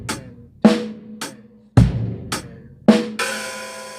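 A drum kit plays slow, sparse hits, with four separate strikes of kick and snare that ring out and decay, then an open hi-hat sizzle sustains at the end.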